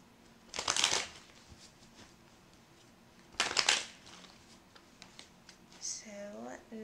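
Tarot cards are shuffled in two short riffling bursts, close and soft, with a faint voice at the end.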